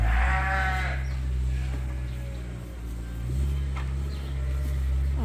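Sheep bleat in a short burst near the start, followed by a steady low rumble of an engine or machinery running throughout.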